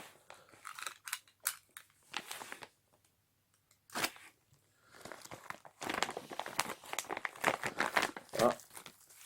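Close crinkling and rustling of plastic wrapping around a Bidalot variator in bursts, with a short quiet gap, then denser crackling and tearing as packaging is pulled open.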